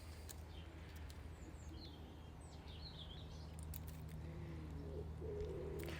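A pigeon coos softly in low repeated phrases near the end, with scattered chirps from other birds above a steady low hum.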